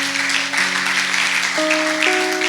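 A church congregation breaks into sustained, dense clapping that fills the space. Held organ or keyboard chords sound underneath and shift pitch partway through.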